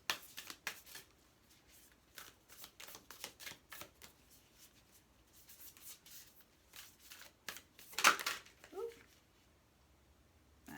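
Tarot cards are shuffled in quick, soft riffling bursts, pausing briefly between rounds, with a louder flurry near the end.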